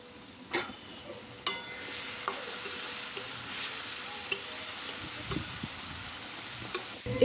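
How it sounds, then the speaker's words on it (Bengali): Spice paste and ground spices fry in oil with browned onions for a fish curry, giving a steady close sizzle with occasional sharp clicks of a spoon stirring through it and no voices. "এবার দেখো মশলাটা ভালোভাবে ভেজে নিয়েছি"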